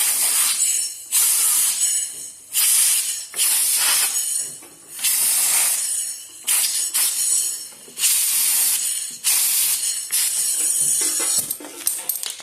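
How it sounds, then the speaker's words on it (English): Penetrating oil is sprayed from an aerosol can into rusted bolt holes on a machine, in a series of loud, close, hissing bursts, each lasting about a second, with short pauses between. "we're going to have to try and spray some penetrating oil down into those holes because those don't want to come loose"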